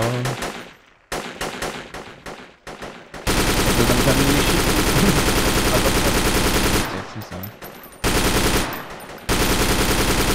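Rapid automatic gunfire in the video game Project Reality: Battlefield 2 on the Beirut map, long sustained bursts of machine-gun fire broken by short pauses and a few single shots.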